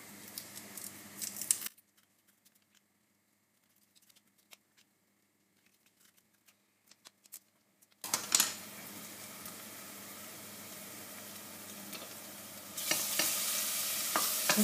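Olive oil with garlic heating in a pan for Tunisian sder; after a near-silent stretch, a loud, steady sizzle starts and continues to the end.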